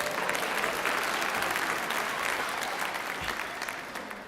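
Audience at a college chapel talk breaking into applause, a dense, sustained round of clapping from a large crowd that tapers slightly toward the end, without talk over it.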